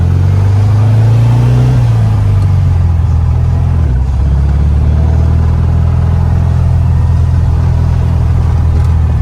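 A restored, lowered 1964 Volkswagen Beetle with an 1835cc engine pulls in second gear around 3,000 RPM, its loud, steady rumbling engine note filling the cabin with a pitch shift as it revs.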